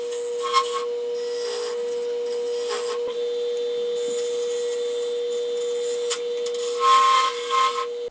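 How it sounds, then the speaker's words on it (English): A wood lathe spins with a steady hum while a diamond carbide tool cuts details into the handles of a rolling pin, with scraping and rasping bursts near and alone over the drone. "to finish the turning of the roller pin, I used a diamond carbide tool to add some details on the handles"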